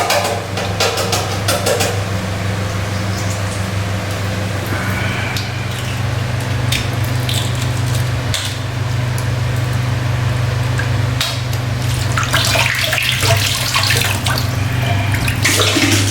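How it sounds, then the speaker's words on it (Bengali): Eggs being rinsed under a steady stream of running tap water in a home kitchen, a continuous close splashing and gushing with small knocks and clatters throughout, no talking. "তো এবার আমি ডিমগুলো ধুয়ে নেব"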